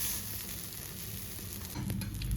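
Food cooking in a pan, a steady close sizzle with faint crackles, growing slightly louder toward the end, with no talking.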